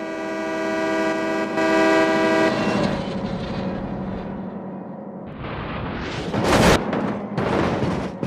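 Train passing, with a long sustained horn blast at the start followed by the rumble and clatter of railcars, ending in bursts of loud rushing noise.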